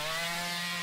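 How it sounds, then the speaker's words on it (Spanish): A chainsaw from The Texas Chain Saw Massacre video game runs continuously with a loud, steady buzzing drone that stays constant throughout, with no speech over it. "Toma con la motosierra."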